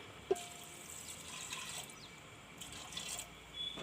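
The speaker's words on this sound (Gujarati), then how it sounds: "હવે આપણે એમાં પાણી નાખી દેવું." Water poured into a vessel of soaked, rinsed kidney beans before boiling makes a faint, soft splashing trickle, fairly quiet and steady with a few small drips and clinks.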